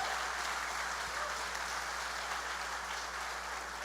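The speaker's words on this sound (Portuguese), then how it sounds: "Dá uma salva de palmas a Jesus pela vida do Fabiano, Patrícia e a Sara." A church congregation applauds with a steady, dense wash of clapping heard from a distance, even in level throughout with no talk over it.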